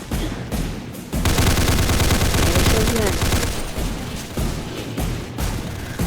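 Rapid bursts of gunfire in the Roblox game Darkdriver, loud and close, with dense fusillade-like volleys broken by short pauses and a few heavier booms.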